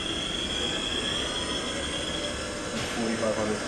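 The spindle of a Haas vertical machining center runs at 2,500 RPM, giving a steady, even, high-pitched whine over a constant mechanical hum that stays at the same pitch with only small shifts near the end.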